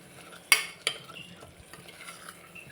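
Yogurt is stirred into a baby jackfruit biryani in a pot: two crisp spoon clinks, then quiet, faint stirring under a low background hush.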